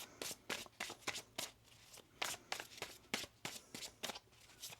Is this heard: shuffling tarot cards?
yes